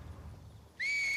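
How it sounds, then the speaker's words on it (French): An enemy in The Last of Us whistles a single sustained, clear, steady tone that starts abruptly after a quiet low background hum and holds loud and close to the end. "Arrêtez de siffler, vous êtes terrifiant."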